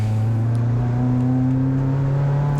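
A turbocharged Mazda MX-5 Miata on a rainy Calder Park track holds a steady, loud engine drone at part throttle, a close in-car hum with a slight rise in pitch and no talking.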